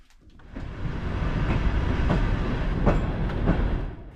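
A sleeper passenger train from China to Mongolia rumbles into motion, its low clattering roar building steadily with faint wheel clicks and squeaks, fairly distant.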